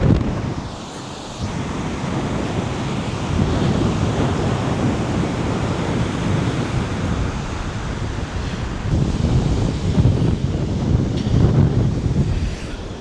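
Surf breaking on a shelly sand beach, a steady broadband wash of waves with wind buffeting the microphone throughout, swelling slightly louder near the end.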